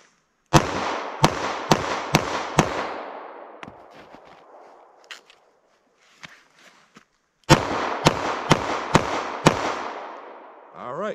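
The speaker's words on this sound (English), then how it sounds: "can you put rounds down range with the 38 Special if you have to?" .38 Special revolvers fire in two quick strings of sharp, loud shots at a range, each string about five rapid reports, separated by a quieter stretch of faint clicks and handling.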